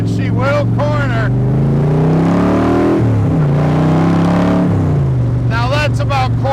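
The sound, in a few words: 1965 Shelby Cobra Kirkham accelerating around a corner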